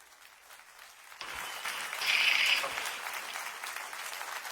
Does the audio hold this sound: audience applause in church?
yes